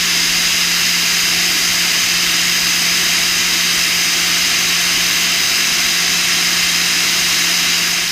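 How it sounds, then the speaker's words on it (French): An angle grinder with a flap disc whines loudly and continuously up close while cleaning metal bearing surfaces, holding a steady high-pitched grind with no pauses. "je remets un petit coup de meuleuse à cette fois-ci avec une disqueuse, avec un disque à lamelles"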